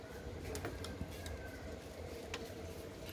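A few pigeons coo softly inside a coop, faint low murmuring calls over quiet background noise with occasional light taps.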